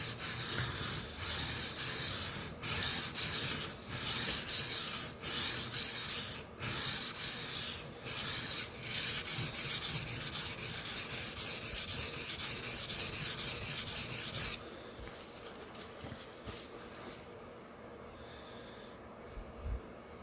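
A dull Sabatier paring knife is stroked across Shapton and Suehiro whetstones in steady, close scraping passes with brief pauses between strokes, then the grinding stops and only a faint rasp remains.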